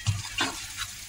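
Maghaz (brain) fry cooks in desi ghee while being mixed, giving a brief sizzle with a couple of soft scraping stirs, close and without talk.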